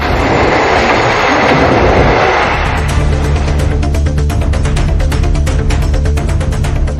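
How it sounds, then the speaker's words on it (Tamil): Madurai passenger train rolling across the new Pamban rail bridge, a broad steady rumble giving way to rhythmic wheel clatter and metallic clicks, loud and close throughout with no voices. "திங்கட்கிழமை என்று பாம்பன் புதிய பாலத்தில் செல்லும் முதல் ரயிலாக காலை 11:40 மணிக்கு மதுரை பயணிகள் ரயில் தனது பயணத்தை தொடங்கியது"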